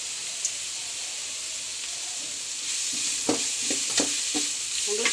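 Three finely chopped green chillies sautéing for a momos filling give a soft continuous sizzle and hiss, joined halfway through by a few sharp spatula taps and scrapes against the pan, without any talking.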